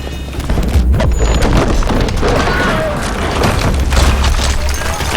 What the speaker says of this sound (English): Nearby explosions rock your ears.